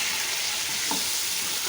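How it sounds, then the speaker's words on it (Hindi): Mutton pieces frying and browning in a pot, giving a steady close hiss and sizzle with faint stirring, no voices. "सबसे पहले गोश्त की अच्छी तरह से भुनाई कर लें"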